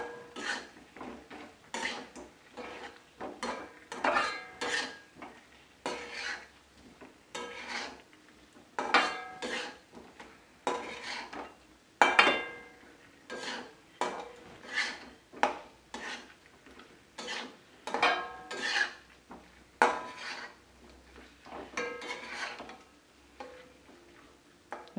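Fried potatoes are stirred into masala in a pan for a vegetarian Bengali aloo dum. A spoon scrapes and clinks against the pan in steady repeated strokes throughout, close and clear, with no talking.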